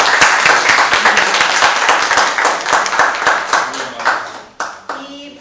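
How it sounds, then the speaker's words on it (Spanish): An audience applauds loudly after an academic talk on food anthropology, dense clapping that thins toward the end into a few scattered claps. "Un aplauso."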